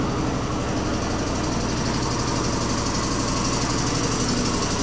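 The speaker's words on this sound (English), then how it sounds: "There, a compressor start." An air compressor in a farm machinery repair shop runs steadily, a loud, constant motor drone with a buzzing rumble that stays close and unbroken throughout.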